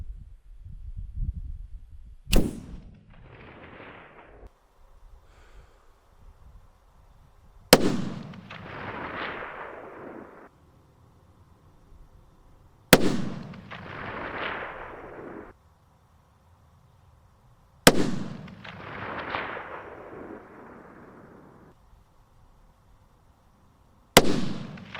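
Savage 110 Tactical 6.5 Creedmoor rifle fired on a mountain, five loud sharp shots spaced about five seconds apart, each cracking hard and trailing into a long echoing rumble across the open terrain.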